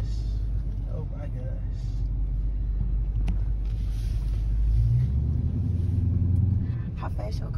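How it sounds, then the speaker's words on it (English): A Dodge Charger Hellcat's engine rumbles loud and steady while the car does donuts, swelling briefly partway through, with voices inside the car over the low drone. "Okay, you ready for me to do these donuts?"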